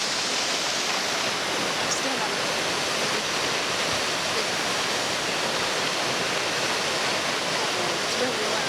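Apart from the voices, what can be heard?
loud waterfall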